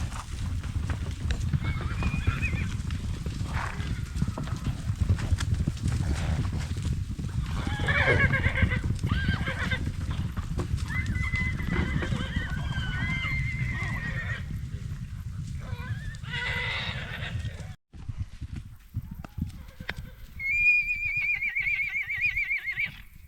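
Wild horses neigh and whinny repeatedly at moderate distance, with scattered hoof sounds and outdoor ambience throughout; a sharp, clear whinny rises near the end.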